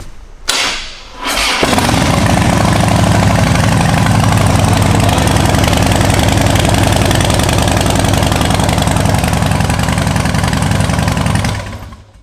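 A 2006 Harley-Davidson Super Glide FXDI V-twin starts after a brief crank, then settles into a loud, close, steady lumpy idle before shutting off.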